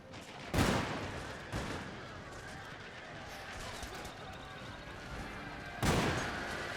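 Musket troops firing in Shogun 2 Total War, three loud crackling volleys spaced seconds apart over a continuous rumble of battle, with someone talking in between.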